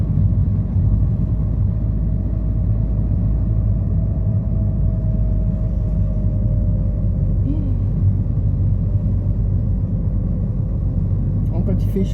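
A car creeps along a road at about 20 km/h on a hot day, its low engine rumble and road noise steady and close throughout, with a faint whine and brief talk near the end.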